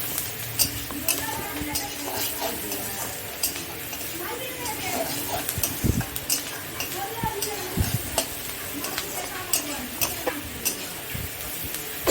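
Onions sizzling steadily in a pan as jute leaf curry is cooked with salt and turmeric, with a utensil stirring and scraping now and then under a constant frying hiss.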